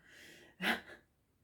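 A single short sneeze from a person indoors, one sharp close burst after a moment of quiet, followed by near silence.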